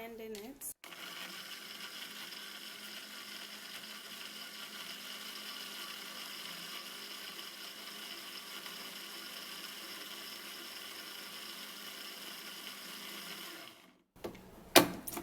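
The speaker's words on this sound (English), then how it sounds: "So I'm gonna be blending it." A countertop blender whirring as it purées carrots with water, a loud, steady motor drone running unbroken for about thirteen seconds, with brief clicks as it starts and a short noise after it stops.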